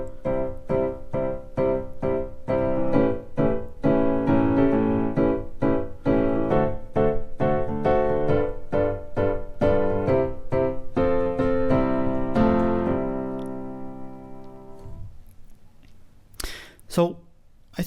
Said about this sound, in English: I could have also played a G dominant ninth